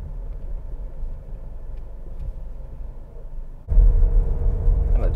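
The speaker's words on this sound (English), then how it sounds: "Kind of downshifting, which sounds nice." Ford SUV engine downshifting, a steady low rumble of cabin and engine noise that suddenly swells louder and deeper partway through as the revs rise, heard alone without talk.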